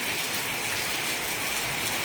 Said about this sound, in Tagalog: Hala, nag-ulan.